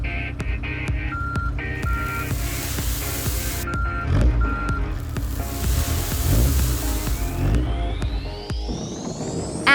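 A dump truck backs up and unloads sand for road repair, its reversing beeps pulsing steadily over engine rumble and the rushing hiss of sliding sand, loud and close.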